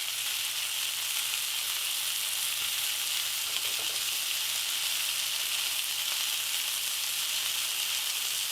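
Honey BBQ chicken chunks fry in a hot pan with a steady, loud hiss and crackle, continuous throughout, with a faint stir or scrape midway.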